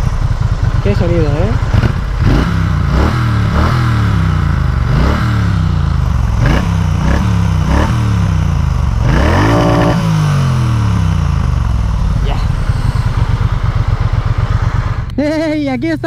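Triumph Bonneville T120 motorcycle with its high-torque twin engine repeatedly revving and accelerating through gear changes on interurban roads, loud and close onboard, with someone talking over much of it.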